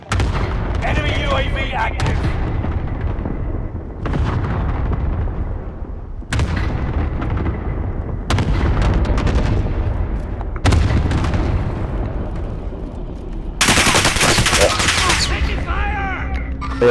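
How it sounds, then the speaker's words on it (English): Gunfire in Call of Duty: Warzone, with loud bursts of shots and booming impacts recurring every couple of seconds over dense battle noise, and voices talking throughout. "they're shooting me"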